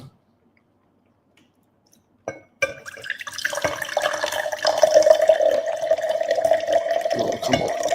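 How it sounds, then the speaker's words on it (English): Water starts running from a tap after a short silence, a steady splashing flow with a ringing tone as it fills a vessel, continuing to the end. "Some more water going."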